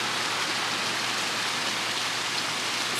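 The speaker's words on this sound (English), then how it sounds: "here's Cane Creek Twin Falls." Cane Creek Twin Falls in the Great Smoky Mountains, water spilling off rock into the creek, heard close as a constant, even broadband rush with no talking.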